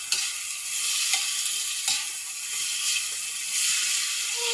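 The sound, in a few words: stirring bitter gourd (ampalaya) with tofu in pan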